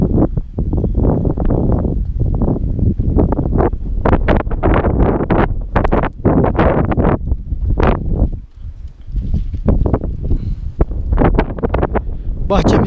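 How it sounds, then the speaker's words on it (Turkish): Gusty wind buffets the microphone in heavy rumbling bursts beside walnut saplings, loud and close, with someone talking through much of it. "Dediğim gibi rüzgar çok burada yine var."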